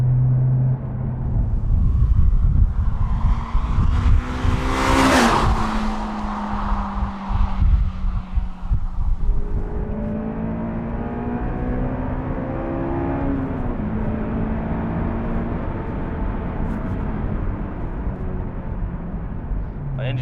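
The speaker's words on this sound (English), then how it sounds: "The engine sounds great in the last couple of thousand RPM." A Honda S2000 engine revs hard toward the top of its range while driving, its rising harmonic whine sweeping upward in repeated pulls over a steady road rumble.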